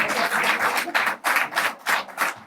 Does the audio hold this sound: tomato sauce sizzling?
no